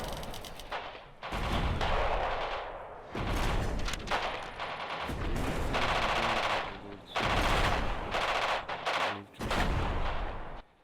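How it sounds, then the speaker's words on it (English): In the video game Radio General, an artillery barrage and gunfire play out as repeated loud bursts of rapid shots and booms, with short gaps between them. "Don't move until the barrage lets up."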